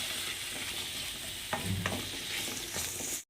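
Ginger garlic paste sizzles steadily in hot oil for a masala cabbage fry, with a few louder stirring scrapes partway through and no one speaking.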